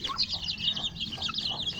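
Rhode Island chickens cluck and murmur continuously nearby, a busy overlapping chatter of hens at moderate volume, with no one speaking.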